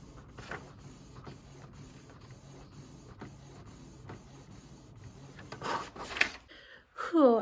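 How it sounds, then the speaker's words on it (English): A home printer running a photo print job, with rhythmic mechanical feed passes and rubbing paper movement, ending in louder whirring and a final paper eject, close and alone. "And then print them up with my printer."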